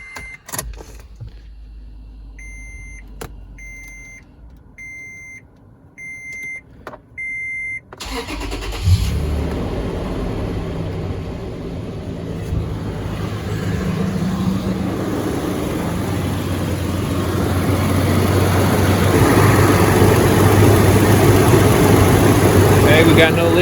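A 2007 Toyota FJ Cruiser engine cranks and catches after a few quiet beeps and chimes, then settles into a steady, fairly loud idle that holds to the end, with no talk over it.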